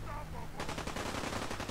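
Automatic weapons fire in Fallout 4, rapid continuous bursts of shots starting abruptly partway through and hammering on loudly to the end, with a low rumble underneath.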